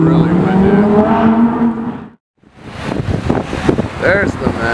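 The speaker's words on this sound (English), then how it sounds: "It's really windy." Strong wind buffeting the microphone outdoors at a roadside car-spotting spot, a loud broad roar that drops out briefly mid-way before gusting back, with a car engine and voices mixed in.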